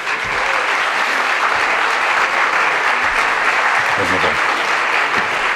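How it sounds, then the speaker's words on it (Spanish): Audience applause at a Spanish-language talk, sustained loud clapping from a large crowd throughout, with a few voices briefly mixed in near the end. "Yo creo que el doctor Moya se merece un aplauso"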